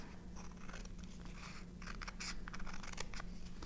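Excess paper is trimmed off a Christmas tag against a straight edge, a soft close scratchy cutting and scraping sound lasting a few seconds, quiet and alone.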